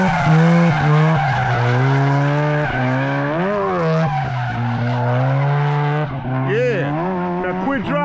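Car tires squeal loudly and continuously as a car drifts at the top of third gear, the screech wavering in pitch over a roaring engine, with no voices.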